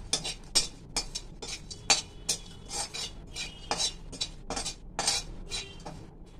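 A spoon stirs dried dates and curry leaves in a hot kadhai, giving irregular metallic scrapes and clinks, repeated steadily and close, with no talk.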